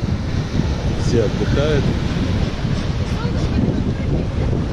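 Wind buffets the microphone at a sea beach in Sochi's Imeretinka area while waves wash in the background, a loud, rough rumble as someone speaks briefly.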